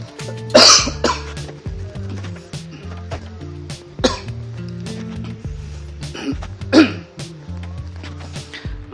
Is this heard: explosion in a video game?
no